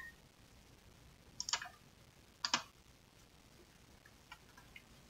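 Computer mouse clicks while working in CAD assembly software, a few faint, crisp single and double clicks spaced apart over a quiet background.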